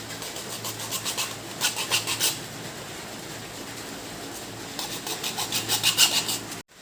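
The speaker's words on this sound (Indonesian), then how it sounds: "ini setelah kita gergaji" Hand saw strokes cutting through a PVC pipe for an aquarium undergravel filter, rasping in two bursts of rapid back-and-forth sawing with a quieter scraping stretch between, close and loud with no talk.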